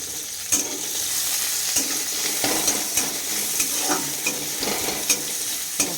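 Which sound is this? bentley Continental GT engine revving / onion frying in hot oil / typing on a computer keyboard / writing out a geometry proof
onion frying in hot oil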